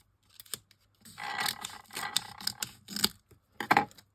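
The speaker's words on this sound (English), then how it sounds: "Need to cut a bit off the side of this." Scissors snip through card while a calendar card is made, a few close, crisp cuts in short bursts with brief pauses, alone without talk.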